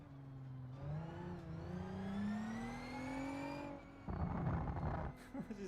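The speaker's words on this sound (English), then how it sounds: "You can hear the brake whining just because they're obviously, you know, race spec brakes." Race car with race-spec brakes in the AutoMobilista 2 driving game whines as a high rising tone over engine drone, then a rougher burst of tyre and engine noise near the end.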